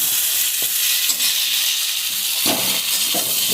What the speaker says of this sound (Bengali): কষিয়ে নিই, তারপর জলটা দিয়ে দেব